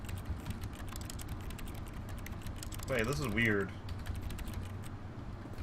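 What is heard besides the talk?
keyboard typing in the video game The Stanley Parable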